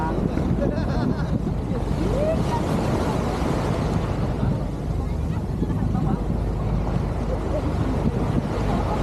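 Steady, heavy wind roars across a small boat at sea near Subic, Zambales, a dense continuous rumble of gusts hitting the microphone with water and hull noise underneath.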